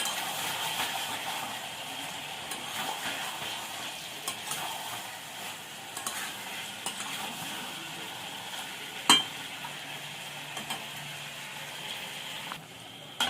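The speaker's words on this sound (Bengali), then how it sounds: "একটু নাড়িয়ে দেবো।" Meat being stirred in a pot for homemade biryani, a quiet continuous sizzle with soft scraping and an occasional sharp clink of the spoon against the pot.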